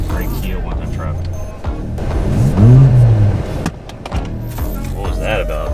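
A car accelerating hard as its driver tries to race, one engine note swelling and sweeping upward before it fades, mixed with traffic noise and voices nearby.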